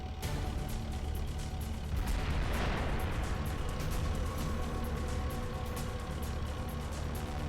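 Machine gun fire in MGS The Twin Snakes: a steady stream of rapid, rattling shots running throughout at moderate loudness over a rumbling engine-like backdrop.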